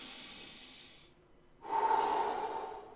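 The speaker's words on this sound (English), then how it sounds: "Take a deep breath." A single deep breath, a soft hiss that dips nearly to silence and then swells into a fuller, louder exhale or inhale, heard close and alone with no talk.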